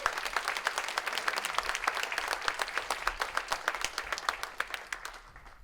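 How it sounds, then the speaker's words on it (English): An audience claps for a speaker at a professional society empowerment event, steady crisp applause from a crowd that gradually softens and tapers off at the close. "let's give Leon a round of support through clapping."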